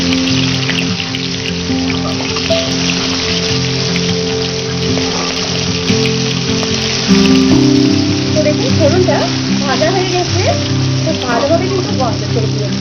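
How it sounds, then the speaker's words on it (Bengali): Black cumin and slit green chillies frying in hot oil, a continuous crackling sizzle under a voice talking over it throughout. "ওই তেলে ফোড়ন হিসেবে দিয়ে দিচ্ছি খুবই সামান্য কালো জিরে, দিয়ে দেবো 2টো চেরা কাঁচা লঙ্কা। এখন ফোড়নটাকে একটু ভালোভাবে ভেজে নিতে হবে।"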